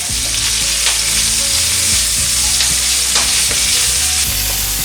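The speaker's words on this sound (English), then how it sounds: "And then you put the broccoli in there." Garlic, ginger and broccoli stir-fry in hot oil with a loud, dense, continuous sizzle close by, punctuated by sharp clicks and scrapes of stirring, and no voices.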